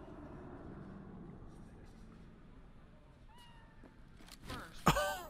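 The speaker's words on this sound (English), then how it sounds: "Oh, hey, kitty." A cat meows briefly in the video game Cyberpunk 2077, a short cry near the end over low game ambience, with voices talking around it.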